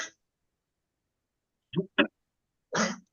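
A few short coughs or throat-clearing sounds, close and separated by silence: one at the start, a quick pair, then a final louder one.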